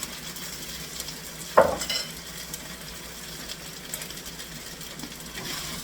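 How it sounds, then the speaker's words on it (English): Pork, sauce and cabbage whites simmer in a heavy pan over medium-low heat; a soft bubbling hiss runs throughout, with one distinct scrape of a stir early on. "Give everything a stir."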